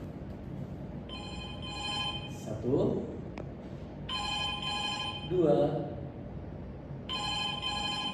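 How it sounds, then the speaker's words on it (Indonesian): A telephone rings in three separate double-trill bursts spaced a few seconds apart, clear and moderately loud, while someone speaks between the rings counting them off. "ketika telepon berbunyi dring dring 1, dring dring 2, dring dring 3"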